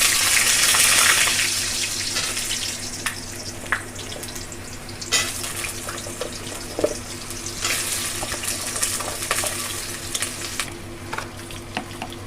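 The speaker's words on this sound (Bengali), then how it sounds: "এবার এর মধ্যে আমি এক এক করে সবজিগুলোকে একটু ভেজে নেব" Vegetables and potato fry with whole spices, peppercorns and bay leaves in a pan, a steady close sizzle with occasional scrapes and clinks of stirring throughout.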